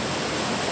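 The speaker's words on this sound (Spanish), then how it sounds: "el agua como está azotando. El río." A swollen river's water rushes and pounds in a steady, loud, full noise with no break and no voices.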